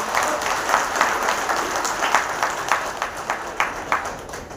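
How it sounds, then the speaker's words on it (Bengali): Audience at a business meeting clapping for achievers, a steady wash of applause with distinct individual claps, moderately loud and filling the room. "তো তাদের জন্য একবার জোরে হাততালি হোক।"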